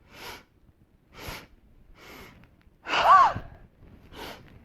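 Sharp, forceful breaths during an energizing yoga breathing exercise, five bursts spaced about a second apart, the fourth loudest and close to the mic.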